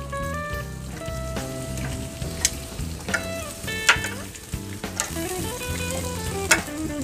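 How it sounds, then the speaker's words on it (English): Continuous sizzle and crackle of dry-rub chicken wings frying in oil, broken by several sharp clinks and scrapes as the wings are turned over in the pan. "Just gonna give these a little flip."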